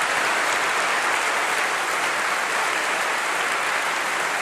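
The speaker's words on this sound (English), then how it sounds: "So a big round of applause to our faculty and staff." A large audience at a university graduation ceremony applauds faculty and staff, a dense, loud and steady wash of clapping that lasts throughout, with no speech over it.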